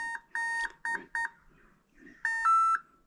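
A ZTW 300A electronic speed controller for a boat motor emits a series of short electronic calibration beeps, first several clipped tones in a rhythmic pattern, then two longer tones, close and clear in a quiet room.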